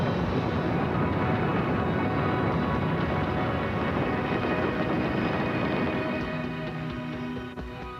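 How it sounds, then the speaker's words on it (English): Rocket booster ignition and liftoff, a dense broadband roar that fills the whole clip at steady loudness and eases slightly toward the end, with no voices over it. "booster ignition, and liftoff"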